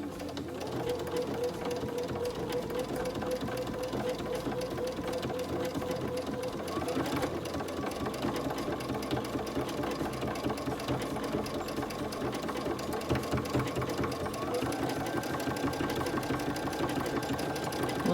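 A sewing machine stitching around a wagon wheel quilt block, running in a steady, close, continuous whir with a fast stitching rhythm for the whole stretch, with no talking.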